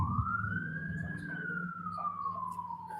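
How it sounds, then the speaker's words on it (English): A wailing siren sweeps up and falls slowly, steady and fairly loud, over low rumbling traffic noise. "Sirens."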